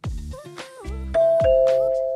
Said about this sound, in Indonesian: Siapa yang tekan bel? Room service kah?